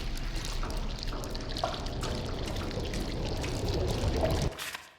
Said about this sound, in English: The ink drips.